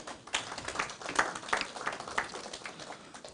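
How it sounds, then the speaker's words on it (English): A conference audience at an economic outlook address claps briefly, a faint, thin scatter of individual hand claps with uneven rhythm in a quiet room. "And I think we deserve a round of applause."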